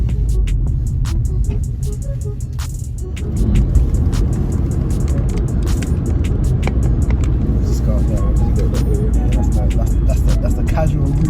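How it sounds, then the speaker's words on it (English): Exhaust of a VW Polo GTI with a 1.8 litre engine while driving, a steady low engine drone inside the car that swells after a few seconds, heard with scattered clicks and sounds from the cabin. "especially now the radio's on, you can hear the little exhaust."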